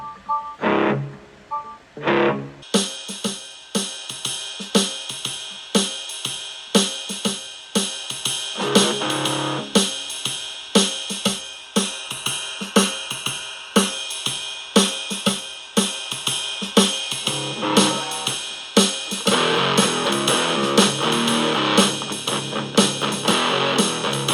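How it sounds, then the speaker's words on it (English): A loud drum machine beat pounding through a Melonare MA 1 portable amplifier, steady rhythmic hits with crunchy distorted texture, running continuously after a short intro. "so let's get into the drum machine"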